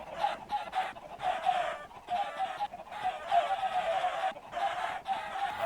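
Chickens clucking in the video game Minecraft, a steady stream of short repeated clucks from several birds, moderately close and continuous with no talking.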